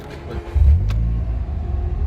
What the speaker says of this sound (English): Hop in and start the car.